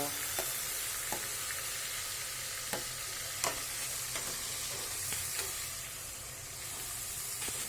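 Chopped onions, tomatoes and chillies fry in a pan for a green chickpea curry, a steady close sizzle throughout with scattered light ticks and scrapes from a stirring spoon.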